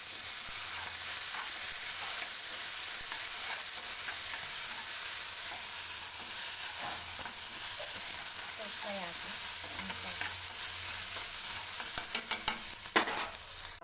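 A chana dal mixture shallow-frying in oil for a paratha filling, with a continuous sizzle and a few clinks and scrapes of a utensil against the pan near the end.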